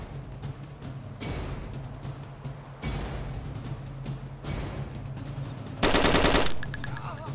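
Rapid automatic gunfire from the survival video game DayZ plays as a series of loud, sustained bursts separated by short pauses, ending with one especially sharp, intense volley.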